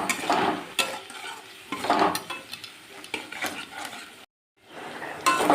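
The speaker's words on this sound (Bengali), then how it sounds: "এবারে মশলাটা একটু কষিয়ে নেব" Ground turmeric, cumin and coriander masala stir-fried in a pan for a Bengali tangra fish curry, with repeated scraping strokes over a steady sizzle, broken by a brief silent gap.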